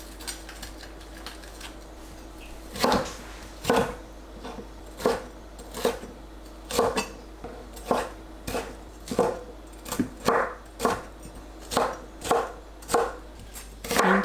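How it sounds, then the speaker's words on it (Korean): A knife chopping bell pepper on a cutting board, about a dozen crisp, evenly spaced cuts at a steady unhurried rhythm, close and clear with no talking. "파프리카를 가로 세로 2cm 크기로 썰어주세요."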